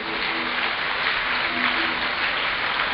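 An audience at a Bhagwat Katha religious gathering in Siliguri applauding, a steady, dense wash of many hands clapping together that holds at an even level.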